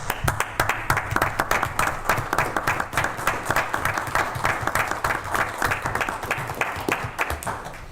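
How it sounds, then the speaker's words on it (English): Sustained applause at a borough council meeting for police, fire and EMS volunteers, a room full of people clapping in sharp, rapid, uneven claps, loud and close for several seconds. "I'd like to just extend a round of applause to them"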